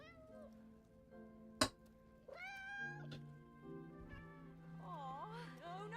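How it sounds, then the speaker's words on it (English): A cat meows several times in the video game Split Fiction, drawn-out melodic cries with a sharp hit partway through, mixed with game music and players talking. "It is a cat again."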